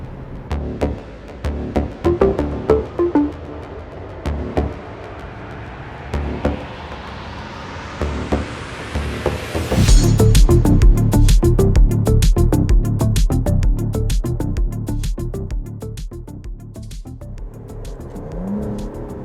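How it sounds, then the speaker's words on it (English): Aston Martin DBS Superleggera with a front-mounted twin-turbo V12 revs up in a long rising pull, then the exhaust fires a rapid, loud string of pops and crackles on the overrun, close and unaccompanied by talk. "Whoever says you can't get sound out of a turbo car, they're crazy. This car pops and crackles."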